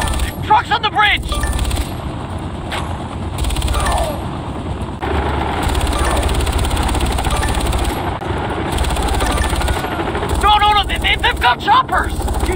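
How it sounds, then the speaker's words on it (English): A helicopter in the 2012 video game Far Cry 3 thrums beneath bursts of machine-gun fire and explosions while people talk and shout excitedly over the loud, busy combat. "They've got choppers!"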